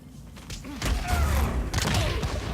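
Close-quarters takedown of a guard in Metal Gear Solid V, a scuffle of heavy thuds and body impacts mid-clip, a bright swishing sweep, then a second burst of blows, fairly loud amid game ambience.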